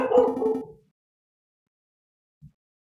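A dog in the game Aviary Attorney gives a short burst of barking and yipping outside a window, a quick cluster of barks followed by silence and a faint later thump.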